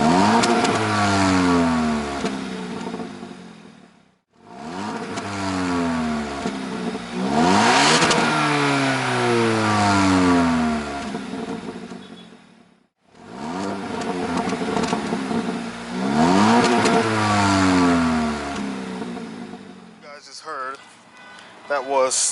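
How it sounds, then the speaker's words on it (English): A 2021 Hyundai Elantra N-Line engine revs hard three times, switching between normal, sport and smart drive modes. Each rev climbs in pitch then drops away, with brief quiet gaps between the loud, close bursts. "When I revved it, gave the engine some gas."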